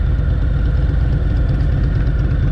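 A 2023 Harley-Davidson Heritage Classic motorcycle's engine rumbles in a dense, steady low drone during a test ride, loud and close throughout, with no talking.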